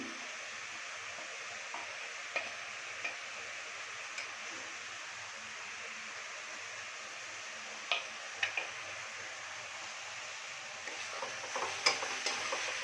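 Spiced chital fish mixture with turmeric, chilli powder and salt stir-fried in a pan, giving a faint steady sizzle with a few scattered light ticks and scrapes and no talking.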